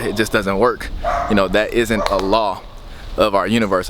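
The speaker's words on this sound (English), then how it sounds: "I do apologize for the barking dogs in the back." Dogs in a neighbouring yard bark and yip in the background while someone talks steadily in the foreground.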